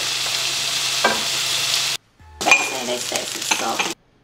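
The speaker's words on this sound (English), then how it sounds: "And then we saute the onions." Onions sautéing in a pan still greasy from pancakes, a loud close hiss broken by a brief silence, then renewed sizzling with clinks and scrapes of a utensil against the pan.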